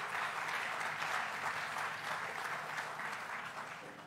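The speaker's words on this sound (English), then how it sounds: "Let's give a big round of applause to the entire Tribeca team who really did a great job" Steady applause from an audience at the Tribeca Film Festival opening, honoring the festival team; dense, even clapping that holds for about four seconds and tapers slightly toward the end.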